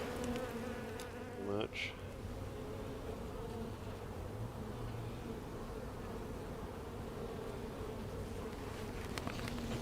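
Honey bees from a tiny swarm buzz steadily on hive frames, a close, continuous drone with brief louder passes of single bees near the microphone.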